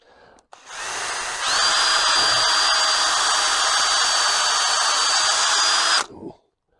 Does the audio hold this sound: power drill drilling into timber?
yes